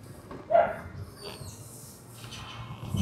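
Dogs in a poor neighbourhood alley in Saigon give a brief sharp bark that stands out against quiet background noise, with no talk.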